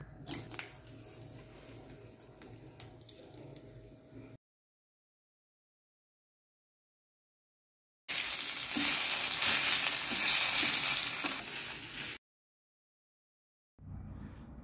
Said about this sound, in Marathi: आपण हा सर्व मसाला आता परतून घेणार आहोत कढईमध्ये।